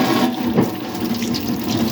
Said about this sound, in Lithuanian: Tu plauki dabar rankas.